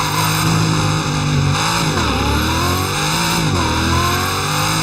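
The F5 Roadster in the Driving Empire racing game revs loudly and continuously, engine pitch rising and dipping as it accelerates, with a brief tire squeal and no talk over it.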